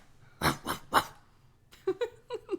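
A person imitates a dog barking with three quick, sharp bark-like bursts, then a pause and a few lower, growly yaps.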